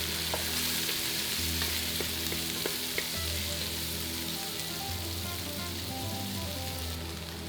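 Leek, onion and carrot, lightly salted, fry over medium-high heat in a pan as the base for a red-wine oxtail stew, giving a steady close sizzle broken by occasional sharp clicks of stirring.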